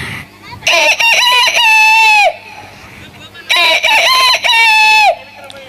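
Someone imitates a rooster crowing twice, each a loud, drawn-out cock-a-doodle-doo call rising then falling, up close with brief pauses between.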